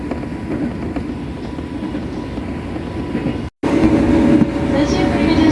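A commuter train runs between stations toward Nambo with a steady, loud rumble of wheels and carriage noise heard from inside, briefly cut off before carrying on.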